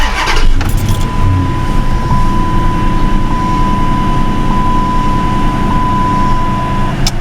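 A car cranks briefly and fires up, then settles into a loud, steady idle with a thin constant tone ringing over the engine rumble, as an oil pressure sensor fault is being checked.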